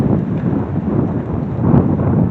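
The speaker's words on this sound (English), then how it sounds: "winter is going out with a real blast because it's windy" Strong gusting wind buffets an outdoor microphone on a blustery late-winter day with 20 to 30 mph gusts, a steady loud rumbling roar that swells near the end, with no talking.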